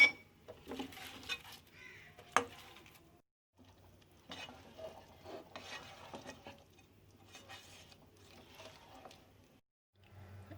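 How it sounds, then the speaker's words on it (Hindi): Faint scraping and clinking as fried chicken drumsticks are stirred into a red sauce in a pan, in irregular bursts with quiet pauses between. "अब इसमें ये ड्रम स्टिक जो मैंने फ्राई की हैं वो डाल देंगे और अच्छी तरह मिक्स करेंगे।"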